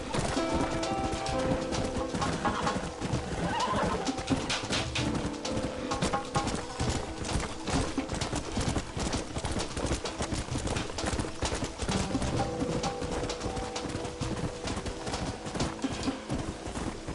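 Horses in the Red Dead Redemption video game clop steadily and continuously, with occasional neighs and whinnies mixed into a dense, loud ambient layer.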